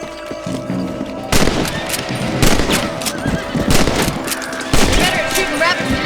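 Rifle shots ring out at rabbits in the Red Dead Redemption video game, three or four sharp cracks a second or so apart, loud and close, over a steady outdoor bed with a horse whinnying and hooves clopping.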